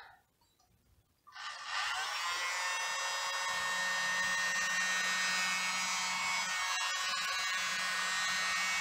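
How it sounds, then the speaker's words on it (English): After a second of near silence, a small electric blower switches on and runs with a steady high whir, close by. "I'm using this little mini dryer or blower"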